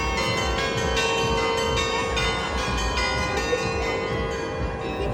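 A large clock tower bell in London rings, a loud sustained metallic tone with rich overtones and repeated strikes blending into one continuous resonant wash.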